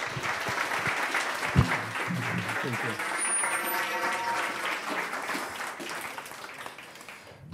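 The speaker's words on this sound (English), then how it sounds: "please big round of applause to Leonid" An audience applauds a speaker named Leonid at a talk on investment principles for first-time founders, with steady clapping that fades toward the end and a brief spoken thanks over it.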